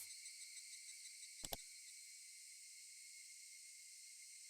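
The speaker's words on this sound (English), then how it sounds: "Getting nice cicada sounds." Cicadas in the Higurashi: When They Cry video game drone steadily in a high, continuous shrill chorus, broken only by one brief double click, no voices.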